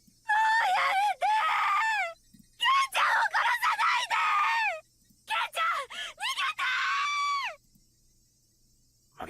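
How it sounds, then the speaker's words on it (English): Shion, a character in the video game Higurashi When They Cry Kai, lets out three long, anguished screaming bursts, loud and wavering, separated by short silences. "Shion's screams coming from the corner of the chamber were enjoyable before, but now they felt unbearably noisy and pissed me off."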